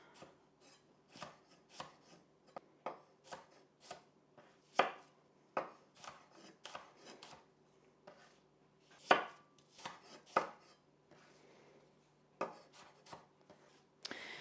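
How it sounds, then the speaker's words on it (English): A knife chops apples into small chunks on a cutting board, with a brisk, uneven series of crisp, close thumps separated by short pauses and no talk. "So we're just going to cut these into small chunks."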